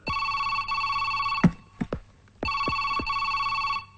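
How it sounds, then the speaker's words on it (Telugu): A telephone rings loudly in a comedy film scene, with a sustained electronic ring burst, a break with a few sharp clicks, then a second ring burst, all close and clear without talking. "ఆ ఫోన్ రింగ్ అవుతోంది"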